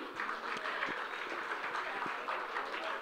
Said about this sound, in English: So a big applause to Shiv Nadar Foundation.